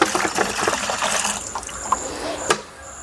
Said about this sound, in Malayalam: ഇത് ഒരു ലിറ്റർ ജീവാമൃതം അത് നമ്മൾ ഈ ബക്കറ്റിലേക്ക് ഒഴിച്ചു കൊടുക്കും